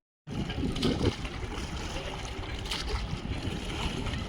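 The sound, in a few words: oars splashing water during a boat ride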